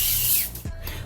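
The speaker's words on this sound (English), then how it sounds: "let's spray our afro." A steady hiss of hair spray from an aerosol can for about half a second, then a faint click and rustle.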